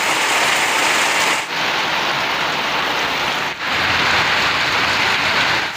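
Heavy, steady rain pouring down in a dense broadband hiss, loud and close, with two brief dips partway through.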